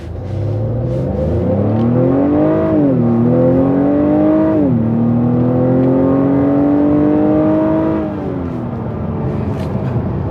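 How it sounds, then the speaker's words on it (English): A 2021 Acura TLX engine revs up hard and loud in sport mode with traction control off, pitch climbing through several gear shifts before settling into a steady high drone. "Now I want to do a little acceleration test."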